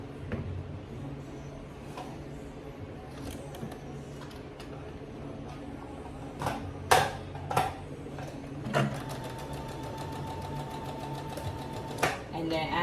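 A domestic sewing machine runs a straight stitch in short intermittent bursts of mechanical whirring and ticking, close by, with someone talking softly over it.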